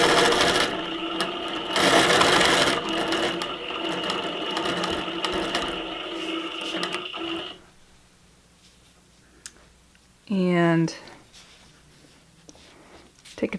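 A longarm sewing machine head runs steadily while stitching binding onto a quilt, a dense mechanical whir for about seven seconds, then quiet with a few small taps and a short burst of motor sound near the end.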